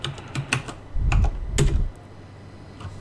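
Quick bursts of key clicks as a command is typed on a computer keyboard, a short flurry of close, crisp taps followed by a brief pause, with no talking.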